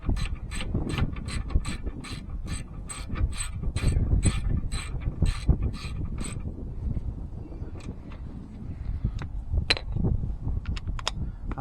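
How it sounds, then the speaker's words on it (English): A wrench ratchets on the lug nuts of a 2015 Honda Odyssey, a rapid run of sharp clicking strokes up close, then a few scattered clicks and clanks against a low rumbling background. "I'm just going to tighten them down with this wrench"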